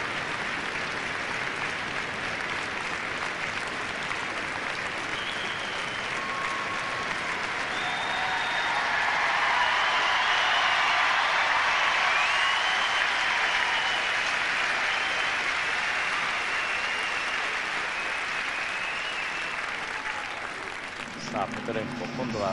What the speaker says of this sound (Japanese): この歓声です。